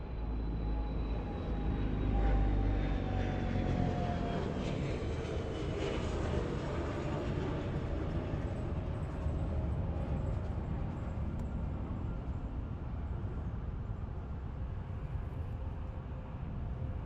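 A Boeing 777 with GE90 engines takes off at LAX, a broad, loud roar with a gliding whine that slowly falls in pitch as the jet passes and recedes.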